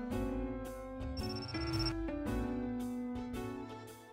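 A telephone rings in the G-Senjou no Maou visual novel game, a steady electronic ringtone with repeating tonal bursts, clear and close, with no talk over it.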